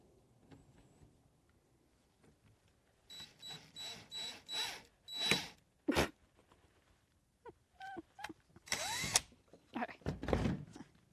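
A power drill drives screws into wood without pre-drilling while building a seesaw for goats, sounding in several short whirring bursts of varying length between quiet gaps, with a few sharp clacks and knocks.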